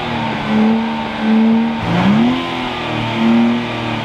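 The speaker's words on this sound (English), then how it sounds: "This is the stock exhaust Nissan Z." A stock-exhaust Nissan Z with a manual transmission revs up near the listener, about three rising blips with the engine settling between them and no voices.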